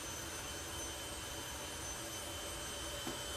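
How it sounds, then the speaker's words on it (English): A jet dragster's turbine engine spinning over at the drag strip start line, heard as a constant, steady broadband roar and whine that stays level throughout with no breaks. "the turbine is spinning over, jet is behind me"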